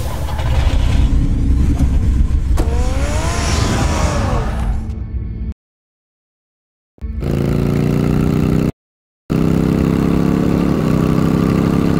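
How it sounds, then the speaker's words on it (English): Car engine in the Batman Telltale video game, heard as a steady idling rumble with a brief rev, broken by two abrupt silent gaps before the low engine drone resumes. "Get the car ready, Alfred"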